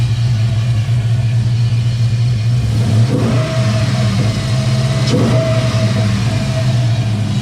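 A 2002 Chevrolet Silverado engine idles steadily and loudly at close range, a constant low rumble with a couple of brief surges partway through; no talking.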